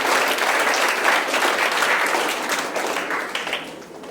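Sustained applause from a student audience at a school Independence Day celebration, a dense steady wash of clapping lasting the whole stretch and easing off slightly near the end.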